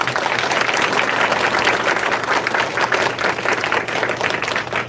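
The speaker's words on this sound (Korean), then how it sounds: "다시 한번 박수 부탁드립니다." Sustained audience applause at a special testimony service at a Korean church, loud and steady dense clapping filling the room with no talk over it.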